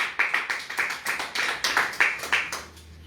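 A church congregation claps hands in worship, about ten sharp, fairly even claps spaced roughly a third of a second apart, moderately close, with no talking over them.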